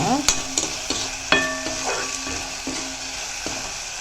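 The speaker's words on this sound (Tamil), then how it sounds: "முருங்கைக்கீரையை சேர்த்து நல்லா சுருளை வதக்கிக்கலாம்" Drumstick leaves sautéing with onion, tomato and salt in a pan, a continuous close sizzle broken by spoon scrapes and metallic clinks against the pan at a loose rhythm, with no speech.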